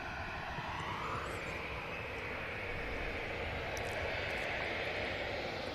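A Ryanair jet taxis along a taxiway at Manchester Airport, its engines producing a faint, distant, even whine and hum that continues unchanged.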